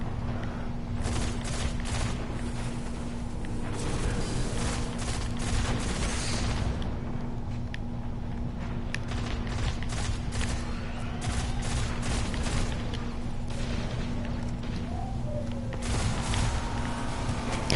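Destiny video game combat: a dense, continuous barrage of gunfire is mixed with booming grenade explosions for about eighteen seconds, loud and close, over a steady low hum.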